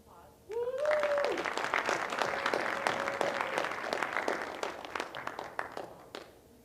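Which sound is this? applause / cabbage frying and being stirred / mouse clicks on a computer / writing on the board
applause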